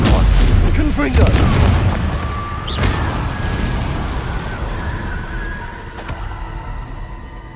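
Spell explosions from the Confringo fire attack in the Hogwarts Legacy video game, several loud booming bursts in quick succession early on, then a fading rumble with ringing tones, mixed with game noise and a voice.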